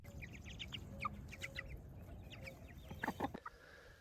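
Chickens cluck in short, irregular bursts close by, with a few sharper squawks toward the end.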